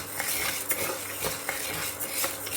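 Spices, a quarter kilo each, are dry-roasted in a pan for homemade sambar powder, giving a close, continuous scraping and stirring rattle with light sizzling and no talk.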